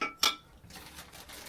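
Small metal toilet seat fixings, screws and plates being taken out of a pack and set down, with one sharp clink near the start and then faint rustling and light handling.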